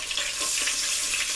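Flour is whisked a little at a time into hot oil in a pot, starting a roux for seafood gumbo. A steady hissing sizzle carries soft stirring scrapes, close and brief, with no voices.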